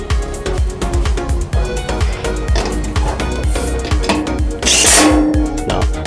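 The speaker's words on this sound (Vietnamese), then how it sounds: "máy cũng dừng lại ngay sau tiếng búa đầu tiên" A Makita DTW700 18V cordless impact wrench runs loud and close, with a rapid string of sharp hammering impacts over a continuous mechanical whir. A brief louder burst comes near the end.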